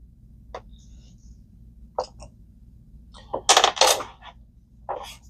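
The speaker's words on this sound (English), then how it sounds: "drop our brand new parts on the floor" Small metal parts from a Penn Battle 3000 fishing reel clink and clatter onto a hard floor in a few scattered bursts, with a louder jumble near the end.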